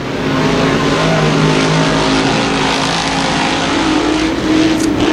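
Sportsman modified race cars roaring around a dirt track in a dense, loud pack, engines droning continuously with harmonic whine and occasional revving as they head into a turn.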